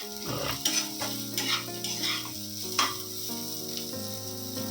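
Vegetables sizzle steadily as they fry in a pan while a spatula stirs and scrapes them, with intermittent clinks over the constant hiss.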